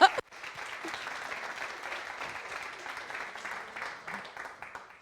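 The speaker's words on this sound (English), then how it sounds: "Yeah, I get the applause," Audience applause at a tech bootcamp demo day, steady dense clapping from a crowd that starts abruptly after a brief sharp onset and holds at an even level for several seconds.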